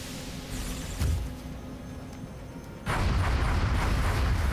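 Booming gunfire in XCOM Long War gameplay: a heavy shot near the one-second mark, then a louder sustained burst of weapon fire over rumbling low noise.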